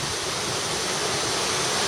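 Waterfall at a via ferrata near Kandersteg, a dense, steady roar of falling water close by, loud and unbroken for the whole short stretch with no voices.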